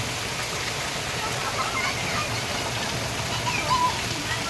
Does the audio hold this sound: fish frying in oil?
no